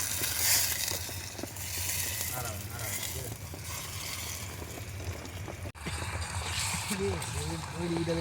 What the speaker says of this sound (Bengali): আমাদের মাংস এখন ফুটছে